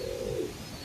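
A male Surmi pigeon with full gold shading gives a single short, soft, low coo close by, fading quickly into quiet background, with no voices.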